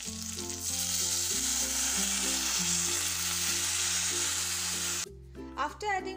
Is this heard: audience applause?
no